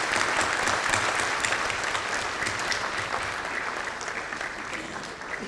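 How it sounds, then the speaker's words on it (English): Audience applause at an inauguration ceremony with the Governor of West Bengal as chief guest, a sustained wash of many hands clapping evenly throughout, fading slightly toward the end, with no talk over it. "Can we have a round of applause for the audience, please?"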